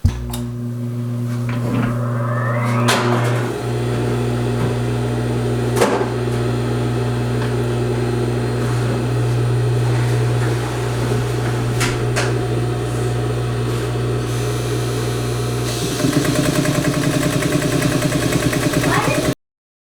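A Brother DB2-B735-5 industrial sewing machine runs steadily and close by, with a continuous motor hum and a rhythmic mechanical whir for about sixteen seconds before the sound shifts to a buzzier, rougher tone near the end.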